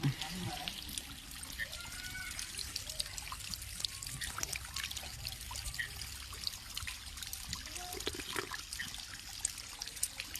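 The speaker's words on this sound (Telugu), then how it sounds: "ఇక్కడ చాలా మంచిగా నీళ్లు ఉన్నాయి చూడండి" Water from a mountain spring at Srisailam trickles and splashes continuously nearby, a steady babbling flow with scattered drips, and a voice speaks briefly over it.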